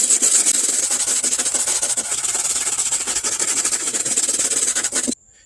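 Steady, rapid wire-brush scrubbing around the old brake booster mount on a Chevy Blazer/S10, a dense, close rasping hiss with fast strokes that runs continuously for about five seconds, then stops abruptly.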